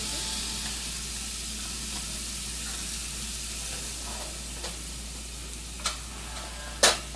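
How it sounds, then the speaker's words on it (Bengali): A potato and egg kofta masala with milk sautés in a pan, a steady close sizzle and bubbling hiss running throughout, broken near the end by a couple of sharp clicks or knocks of a utensil. "এবারে এটাকে ভালোভাবে কষতে দেব"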